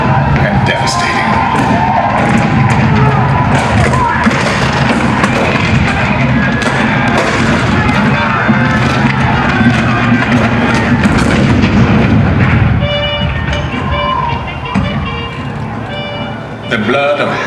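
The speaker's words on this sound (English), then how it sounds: "The cannon spoke for war, bitter, violent, and devastating." Booming cannon fire of war in a theme park show, dense rumbling blasts layered over a loud crowd-like roar and a narrating voice, continuous and overwhelming before easing slightly near the end.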